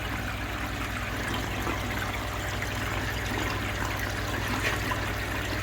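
Water splashes continuously from a koi pond filter shower, a steady close rushing trickle over a low constant hum from the pond equipment.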